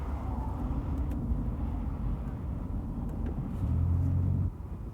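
A 1988 Pontiac Bonneville SSE runs through a cone course with a steady low engine and road rumble, swelling into a heavier throttle drone near the end before easing off.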